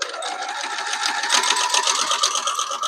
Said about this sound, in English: Quickly run this through the sewing machine